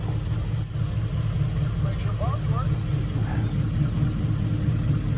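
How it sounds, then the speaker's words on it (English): A small-block Chevy V8 swapped into a Volvo idles with a steady, deep, throbbing rumble, loud and close, running continuously without revving. "I just idle it over and leave it."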